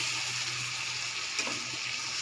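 Small mourola fish fry in a pan with a steady, quiet sizzle, and a spatula gives a single brief scrape partway through.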